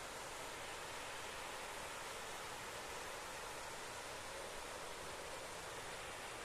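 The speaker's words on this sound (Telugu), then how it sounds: "అదే జలపాతం" Waterfall near Lambasingi rushing in a steady, even broadband roar, constant and moderately faint, with no breaks or voices over it.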